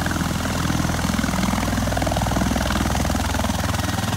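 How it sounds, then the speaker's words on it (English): A Bell Boeing MV-22 Osprey tiltrotor of squadron VMM-163 taking off at Santa Monica produces a loud, dense rotor throb with rapid steady blade pulsing over a deep engine roar, continuous and close. "The Bell Boeing MV-22 Osprey was used on May 2nd, 2011 in the operation to kill Osama Bin Laden."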